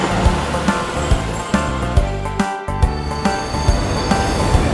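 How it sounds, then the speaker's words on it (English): An intercity train rolls along with a continuous rumbling roar, punctuated by regular rhythmic clacks of wheels over rail joints, close and loud, with a brief dip midway. "Intercity train."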